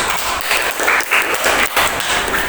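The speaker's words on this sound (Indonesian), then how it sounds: "Oke, kita berikan aplaus." An audience in a polytechnic teaching session in Ambon claps in a dense, lively round of applause that stays fairly loud throughout, with small swells and dips in intensity.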